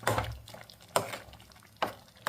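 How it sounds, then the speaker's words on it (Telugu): Chaat filling for pani puri is mixed with turmeric, garam masala and salt in a pan, producing three distinct scraping stir strokes with a soft sizzle between them, close and unaccompanied by talk. "మొత్తం ఒకసారి మిక్స్ చేద్దాము"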